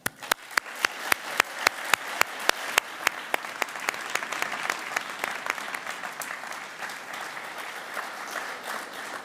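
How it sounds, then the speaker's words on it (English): Applause breaks out at an award ceremony for the National Jonk Fuerscher Contest, opening with a few sharp, loud claps that quickly swell into a dense, sustained round from a crowd, then taper slightly. "A big round of applause for them."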